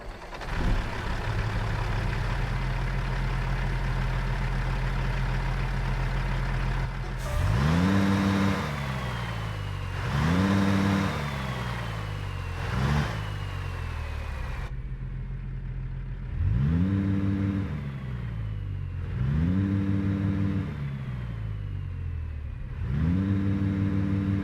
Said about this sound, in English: as we go ahead and start up this truck, and let me tell you, it does sound very freaking good